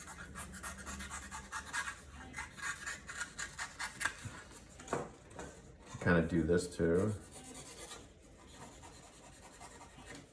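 A blade carving and thinning a foam core shoe sole lined with paper gives steady close scraping and rasping strokes, growing denser and louder toward the middle, while a person talks quietly at times.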